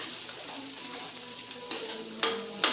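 Garlic browning in a frying pan while cooking bottle gourd, a steady close sizzle with faint stirring and a few sharp utensil clicks against the pan near the end.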